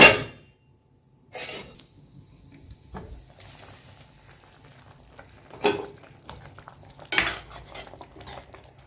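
Stuffed brinjal curry cooks covered in a pan, with a few sharp clinks and clangs of a lid and utensils breaking through a quiet, low simmer.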